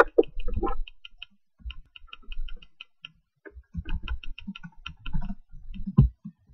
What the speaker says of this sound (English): your character only moves when you press a certain key